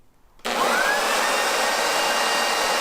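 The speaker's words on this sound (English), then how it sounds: "here is what a typical 120-volt corded blower sounds like." Typical 120-volt corded electric leaf blower switching on abruptly, its motor rising in pitch as it spins up, then a steady loud roaring whir that continues alone.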